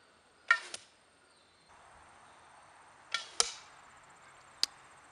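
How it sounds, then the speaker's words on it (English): An antler-tipped arrow strikes a wooden armor board and splits it lengthwise, heard as a few sharp, dry cracks and thuds spaced over several seconds, clear and fairly close against a quiet outdoor background without talking. "When it struck the board, it split the board lengthwise."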